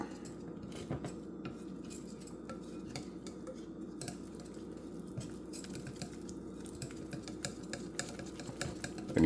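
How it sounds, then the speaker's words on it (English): Japanese cheesecake batter being mixed as flour is worked in, with a steady soft scraping and clinking of a utensil against a bowl, close and continuous with small taps throughout. "Mix the flour into it."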